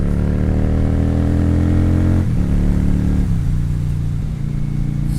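Motorcycle engine running loud and close, holding a steady revving drone that dips in pitch a couple of times, with no talk.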